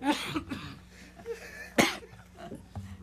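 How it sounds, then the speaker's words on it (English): A man coughs several times during a police jury meeting, with harsh close bursts and throat clearing, one loud sharp cough standing out amid quiet room noise. "Now I got him coughing"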